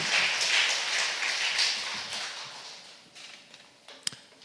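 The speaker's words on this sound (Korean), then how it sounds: "하나님께 영광의 박수드립니다." A church congregation applauds during a Sunday worship service, a broad wash of clapping that swells early, then fades away to a few scattered claps near the end.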